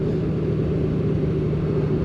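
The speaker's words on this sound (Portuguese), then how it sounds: "Tem um autocarro." A bus rumbles past steadily on a mountain ridge road along the Route des Crêtes in France's Vosges, its engine drone close and continuous with no talk.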